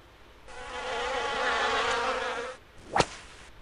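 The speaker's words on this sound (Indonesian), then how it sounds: "Kayak lalat ini." A fly buzzes in the DK Multimedia PC game Play & Learn: Reading and Counting, a loud, close, steady drone of about two seconds, followed by a quick swooping whoosh.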